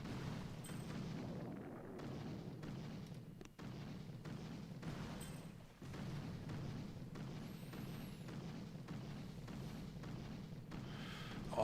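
Mortars fire repeatedly in a Boom Beach battle, a steady stream of dull booms and thuds over a rumbling game backdrop, with brief dips between volleys.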